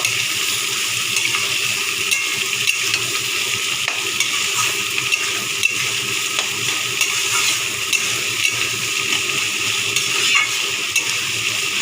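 Onions fry steadily in a pan until browning, a dense, even sizzle with small crackles and occasional faint clicks, close and continuous, no one speaking.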